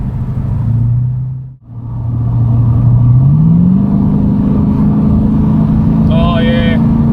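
A Ford EB Fairmont Ghia V8 with a performance exhaust accelerating hard, a loud close engine drone that dips briefly then climbs steadily in pitch through the revs, with a voice talking over it near the end.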